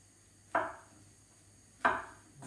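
Two sharp, separate knife chops on a cutting board quarter mushrooms for a creamy pasta, each a crisp close thud about a second apart in a quiet kitchen.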